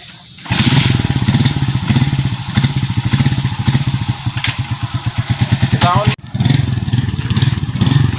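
A motorcycle engine runs close by with a rapid, throbbing exhaust pulse and slight revving, briefly dipping near the end before picking back up, as a parent teaches a child to ride.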